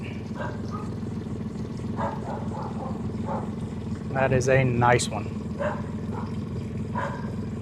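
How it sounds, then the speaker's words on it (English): Several dogs bark excitedly in a yard near the water, a brief burst of loud, overlapping barks over steady boat-engine rumble, with someone talking throughout. "Got some dogs losing their mind up in the yard"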